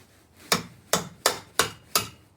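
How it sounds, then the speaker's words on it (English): A hammer drives a punch to knock a CV axle shaft loose from the knuckle of a Subaru Forester: five sharp metallic strikes at a steady, fairly quick pace, close and clear. "Just hammer it out."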